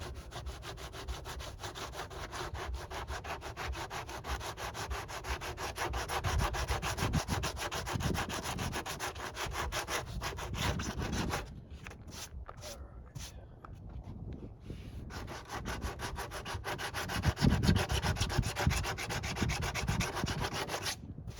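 Sandpaper rubbed by hand over foam and fiberglass on a C8 Corvette body piece, a close, steady, scratchy back-and-forth sanding that pauses briefly midway, then resumes more forcefully.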